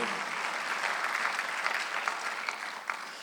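A Korean church congregation clapping during a Sunday worship service, a dense, steady wash of applause that holds at full strength throughout, with a few sharper claps standing out near the end.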